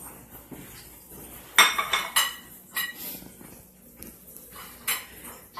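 Plates and dishes clatter and clink in a home kitchen, sharp irregular knocks of crockery and cutlery spread across several seconds, close and moderately loud with no talking.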